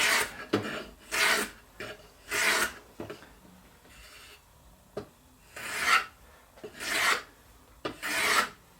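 A block plane chamfering a wood edge, repeated rasping strokes, about eight passes in an uneven rhythm, close and fairly quiet, with no talking.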